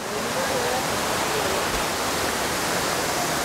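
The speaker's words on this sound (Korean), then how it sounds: "물소리도 잘 들리고." Kuang Si waterfall in Laos, its rushing water a steady, loud broadband roar that fills the whole scene without pause.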